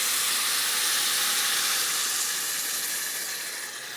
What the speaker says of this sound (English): it's time to put in the water